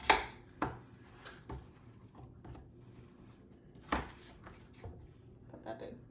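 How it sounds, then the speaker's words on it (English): A knife cuts peeled apples into thick slices for a caramel apple pie: a few sharp, spaced chops on a board, close and fairly quiet, with long pauses between strokes. "And then you cut them up and you want what? Thick slices."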